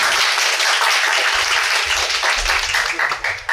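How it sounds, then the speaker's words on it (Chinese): An audience at a lecture on Taoist manuscripts and altars bursts into warm applause for the speaker: dense, steady clapping that fills the whole stretch and stays loud throughout. "我们以热烈的掌声欢迎老师。"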